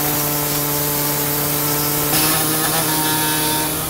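Air body saw cutting into a Honda Pilot's body panel, a constant close buzzing rasp with steady motor tones, slightly louder partway through, no talk.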